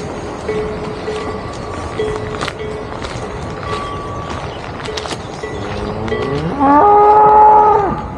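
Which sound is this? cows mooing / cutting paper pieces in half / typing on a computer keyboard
cows mooing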